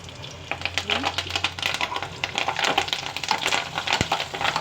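Curry leaves crackling in hot oil in a pan while cooking coriander-seed pulusu, busy irregular sizzling pops with stirring scrapes throughout and a faint voice underneath.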